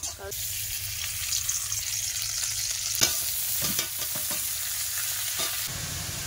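Continuous close sizzling of food frying in a pan, with a few scrapes and taps from stirring.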